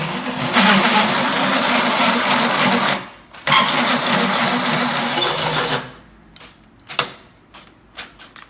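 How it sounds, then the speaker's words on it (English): Cordless drill boring into the exhaust of a Moto Guzzi Stornello motorcycle, a loud steady whirring run of about three seconds, a short pause, then another run of several seconds, ending with a few scattered clicks and knocks. "Set the drill to actually drill."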